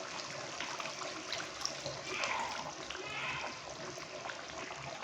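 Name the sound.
water poured into Kashmiri chicken masala curry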